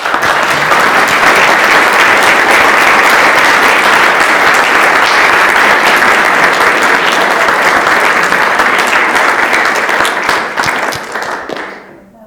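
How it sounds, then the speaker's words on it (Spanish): A large audience at a community gathering gives sustained, dense applause, a thick steady wash of clapping for about ten seconds that thins and dies away near the end. "este aplauso es para ustedes mismos"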